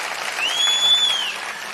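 A crowd at a political rally applauds in a steady, dense wash of clapping that holds at an even level throughout, with no voices standing out.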